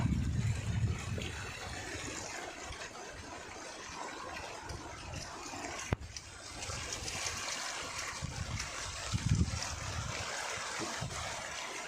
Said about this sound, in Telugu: చూడండి ఎంత గట్టిగా వాటర్ వస్తుందంటే రోడ్ అంతా పాడైపోయే అవకాశం